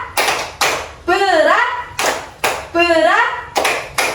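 Children in a second-grade classroom clap in short bursts between chanted voices, the claps sharp and close as a group repeats a rhythmic call-and-response.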